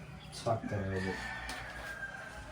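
A rooster-like call rings out once amid a couple of short sounds from chickens kept at a house, fairly close, over a low background hum with a voice briefly present.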